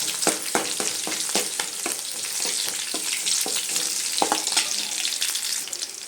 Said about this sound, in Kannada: ಬೆಳ್ಳುಳ್ಳಿನೂ ಸರಿಯಾಗಿ ಫ್ರೈ ಆಗ್ಬೇಕ್ರಿ